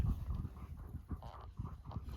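Endurance sled dogs panting in rapid rhythmic breaths, close by and fairly quiet, with soft shuffling and snow noise around them.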